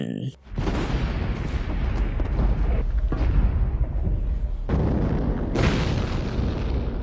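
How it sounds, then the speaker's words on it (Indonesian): Loud, heavy booming blasts from an ammunition factory being destroyed, with sudden bursts and a rumbling roar that continues between them, like a series of big explosions nearby. "tiba-tiba terdengar suara ledakan"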